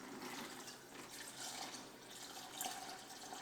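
Maple orange glaze poured over a turkey in a roasting bag, a steady soft liquid pour and splash running continuously, fairly quiet and close with no talking.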